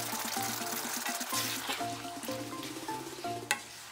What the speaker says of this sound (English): Pour in the fruity sauce that we've prepared earlier on and bring everything to the boil.